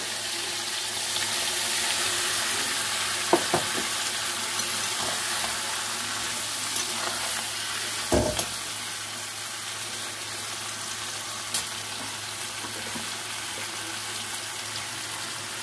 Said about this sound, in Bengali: কাঁকড়াটা একটু ভাজা ভাজা করে নিয়েছি। এবার আমি পেঁয়াজ বাটা আর একটু রসুন বাটা দিয়ে দেবো